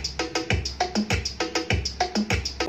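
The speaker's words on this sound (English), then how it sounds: "Then the most important part, the drums." A programmed drum beat for a song, repeating kick and snare hits with bright cymbal or hi-hat accents in a steady, even groove, close and clear with no voices.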